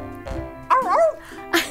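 A dog gives a couple of close, loud, yelping barks with short whimpering pitch slides between them, all within a brief burst.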